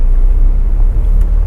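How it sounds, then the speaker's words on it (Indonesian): Steady low engine rumble and road noise from a BMW X1 sDrive SUV on the move, a continuous close drone with no speech over it. "Nah, kita berkendara dulu menggunakan ini mobil nih"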